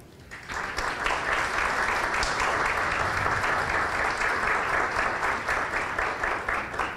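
Steady applause fills the hall as a seated audience claps at a formal Sorocaba city council ceremony, an even sustained patter of many hands lasting several seconds.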